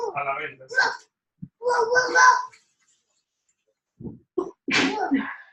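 A single sharp sneeze bursts out near the end, following bits of nearby talk and a pause of quiet.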